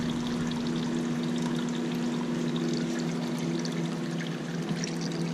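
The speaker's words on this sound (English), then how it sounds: "And then you dump that in your catch pan." Used engine oil from a 2002 Toyota Echo pouring into a catch pan during an oil change, a steady, continuous liquid splash and trickle heard close up throughout.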